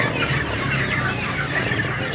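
A dense flock of 45-day-old chickens squawks and squeals loudly and continuously at a slaughter site.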